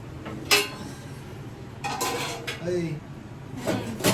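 Steel dishes and pots are scrubbed and stacked in a hurry at home, giving several quick, close clanks and clinks in an uneven rhythm, with a faint voice in the background.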